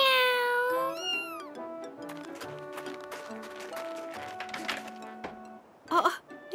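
A cat gives a long, drawn-out meow followed by quieter mewing, close by, with light background clatter and a brief thump near the end.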